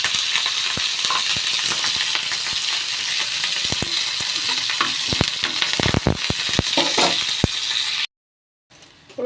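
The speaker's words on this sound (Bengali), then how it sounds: "কড়াই তেল বসিয়ে দিয়েছি।" Green chili, dry chili and nigella seeds spit and crackle in hot oil in a nonstick frying pan, a loud steady sizzle peppered with sharp pops and stirring clinks that cuts off abruptly near the end.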